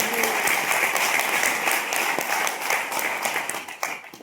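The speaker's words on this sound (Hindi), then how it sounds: "ओपी शर्मा सर, को जोरदार ताली दीजिए।" Loud, steady applause from a seminar audience honoring the chief guest, dense clapping sustained throughout and tapering slightly at the end.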